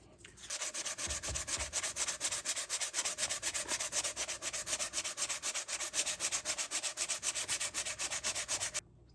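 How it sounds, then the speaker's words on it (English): Steady, rhythmic back-and-forth sanding rasps on the plastic-welded repair of a 1975 Yamaha DT250 motorcycle fender, close and continuous for several seconds with no talking. "But the top side, I think I'm ready to do a little sanding on there."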